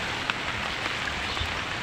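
Heavy typhoon rain (Typhoon Kristine) pours steadily on surfaces while floodwater rises in Lagarian, a dense, even hiss with a few louder drops, close and continuous, no voices.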